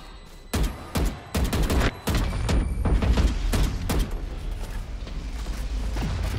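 Shots ring out in Valorant, a string of sharp single cracks in the first two seconds, then a thick stretch of rapid fire and booming impacts, loud and close with no talk.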